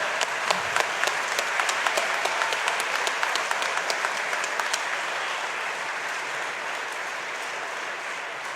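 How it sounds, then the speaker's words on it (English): An audience at a formal session bursts into sustained applause, dense clapping that carries on evenly for several seconds and then slowly thins. "Give it a round of applause."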